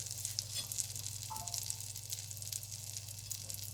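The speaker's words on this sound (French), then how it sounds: "Ici, le beurre frétille, donc c'est très bien" Butter sizzles steadily in a frying pan, a soft continuous crackling hiss with a low hum underneath, close by and fairly quiet, with no talk.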